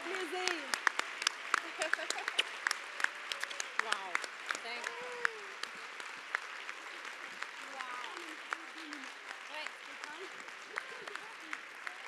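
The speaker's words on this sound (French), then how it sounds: "j'aimerais qu'on donne une bonne main d'applaudissement à Nelly" Sustained audience applause fills a room at a women's evening charity event, dense clapping continuing steadily throughout, with scattered voices and a few cheers mixed into the crowd noise.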